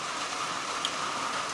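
Steady rain falling outdoors on a moose hunt, a dense, even hiss that stays constant and fairly loud throughout, with no voices.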